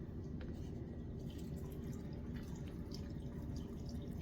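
Lime water poured slowly into a container of eggs for glassing eggs, a soft, steady trickle with light drips under a constant low background rumble.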